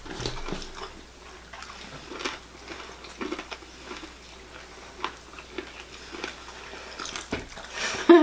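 Close-up crunching and chewing of crunchy KFC fried chicken, irregular crisp bites with wet mouth sounds, a quiet voice briefly audible near the end.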